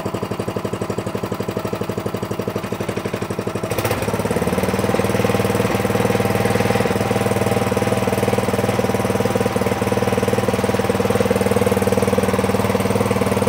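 An Atco Royal B24 lawn mower engine running after a carburetor clean, a close, steady chugging idle that rises to a louder, fuller roar as throttle is opened a few seconds in and holds there.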